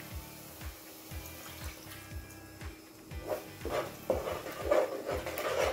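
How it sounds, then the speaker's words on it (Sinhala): Water poured into a simmering mushroom curry, a steady splashing pour that builds louder over the last few seconds, with faint pan sounds beneath and no talking. "දැන් මේ වෙලාවේදී වතුර ටිකක් එකතු කරගන්න."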